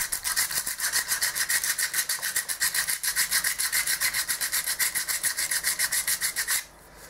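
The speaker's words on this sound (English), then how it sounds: "Every bit that doesn't feel right is going to be sanded out." Wood contours being sanded by hand, a steady rhythmic rasping of repeated strokes, close and fairly loud, running continuously for most of the stretch before stopping abruptly near the end.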